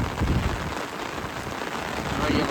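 Rain falls steadily outdoors where work carries on, a soft, even patter across the surface at low volume for the whole stretch.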